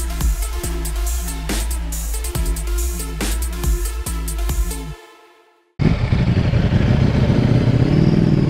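A 2020 Ducati V2 Panigale 959 sport bike engine runs with a loud, rhythmic pulsing and clattering, then cuts out briefly before a sustained broadband roar of riding returns.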